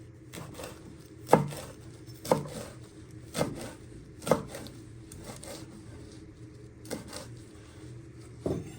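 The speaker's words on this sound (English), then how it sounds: "So once you have prepped your stalks, you want to finally slice your leaves." A knife chops basil leaves on a cutting board in a few distinct, separate thuds spaced irregularly, close and fairly quiet, with soft handling noises between the cuts.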